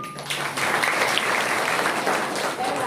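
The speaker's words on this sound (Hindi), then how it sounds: "ताली बजाओ भाई" Children in a Holi special class in Balambha clap their hands together, a steady, fairly loud wash of many small claps that fills nearly the whole moment after a short quieter start.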